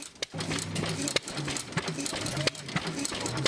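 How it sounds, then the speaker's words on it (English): Antique tractor engines chug and putter steadily at the State Fair of Virginia, a rhythmic mechanical thumping with crowd chatter and voices in the background. "You can't miss the sound of the antique tractors and motor displays at the State Fair of Virginia."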